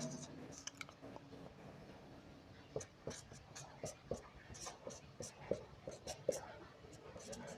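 A marker or chalk scratches across a classroom board in a string of short, rhythmic strokes, growing more frequent toward the end, with a soft voice speaking underneath.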